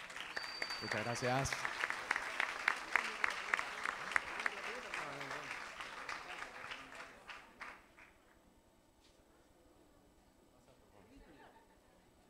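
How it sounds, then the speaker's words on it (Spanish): Audience in a school hall applauds with scattered, fairly sparse clapping that is moderately close, lasting several seconds and fading out, with a voice speaking briefly near the start. "Un aplauso."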